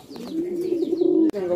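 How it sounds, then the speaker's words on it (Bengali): An Indian Bombai racing pigeon gives a loud, close, drawn-out throaty coo that swells and wavers for over a second, ending with a sharp click before a second call begins. "এক জোড়া রানিং কবুতর ইন্ডিয়ান বোম্বাই"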